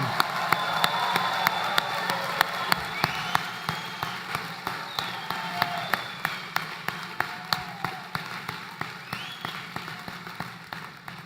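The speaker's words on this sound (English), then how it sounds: "Let's have another round of applause for all of our graduates this afternoon." Sparse, slowing applause for graduates at an economics department commencement ceremony: distinct individual claps ring out one by one with a faint crowd bed beneath, fading toward scattered hand claps.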